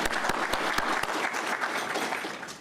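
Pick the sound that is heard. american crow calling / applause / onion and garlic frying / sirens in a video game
applause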